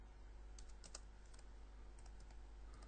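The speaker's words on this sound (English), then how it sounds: "if I type in grand total" Quick bursts of keystrokes on a computer keyboard while entering text into an Excel spreadsheet, close and quiet over a low steady hum.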